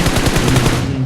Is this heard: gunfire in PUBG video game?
yes